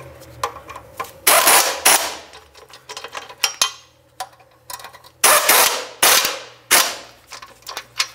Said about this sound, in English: As we tighten these two, it's important to make sure that you tighten them equally.